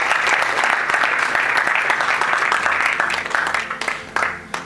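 A church congregation applauds during a service, a dense, close wash of clapping that holds steady for several seconds, then thins into scattered individual claps toward the end.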